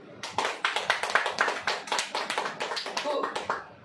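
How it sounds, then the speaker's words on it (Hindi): An audience at a religious sermon claps in a steady, rhythmic beat, about a dozen sharp, evenly spaced hand claps that are moderately loud and close. "तो ताली लेंगे।"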